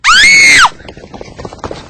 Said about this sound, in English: one of the women, approaching the bed to get a chair which she had left near it, rushed from the room with a scream